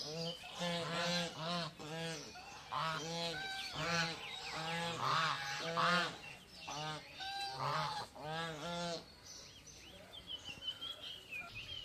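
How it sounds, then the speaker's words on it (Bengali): Domestic geese honk loudly and repeatedly in a resort garden, a flock calling in quick overlapping bursts close by, with a softer bird chirping toward the end. "এই হাঁসগুলোর আওয়াজও কিন্তু শোনা যায়।"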